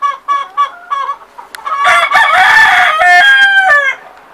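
A rooster perched on a wooden beam clucks a few short times, then lets out a long, loud crow close by.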